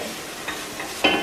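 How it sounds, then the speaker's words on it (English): Onion frying in a pan for chilli con carne, a soft sizzle with a couple of stirring scrapes, the last one louder, no talk. "continue to hear that sizzle from the onion"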